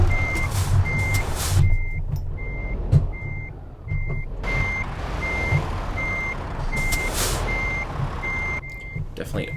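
In Euro Truck Simulator 2, a truck backs a trailer into a parking spot, its reversing alarm beeping in a steady, evenly spaced series over the engine's low rumble, with occasional hisses and clunks.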